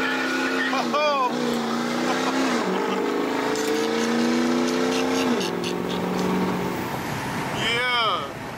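A built 2006 Ford F250 Power Stroke 6.0 diesel truck, rated around 800 hp, skids with a loud, sustained tire squeal that bends in pitch over a steady engine roar. The squeal rises again briefly near the end.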